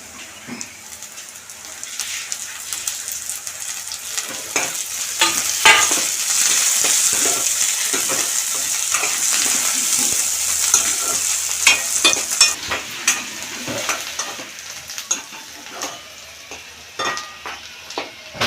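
Mustard-seed tempering frying in hot oil for a raw banana yogurt chutney, a continuous close sizzle dotted with many sharp crackles and pops throughout, with scattered stirring sounds.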